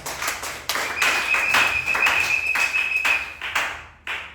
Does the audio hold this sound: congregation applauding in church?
yes